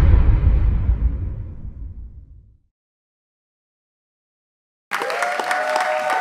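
Audience clapping, a loud burst that fades out into silence and then resumes abruptly as steady applause.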